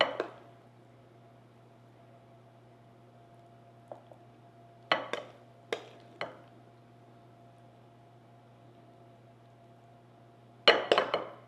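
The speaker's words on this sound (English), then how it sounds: "And now we're just going to spoon our muffin mix on top here." A spoon clinks and taps against a baking dish as cornbread muffin mix is spooned over a street taco bake: a handful of sharp, scattered clinks with quiet gaps between them.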